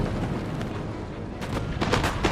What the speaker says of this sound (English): Skirmishers begin to engage one another now in early combat, picking targets and firing at will